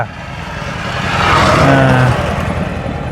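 A motor vehicle drives by on a rural road, its engine swelling louder as it nears and passes, then fading, with no talking.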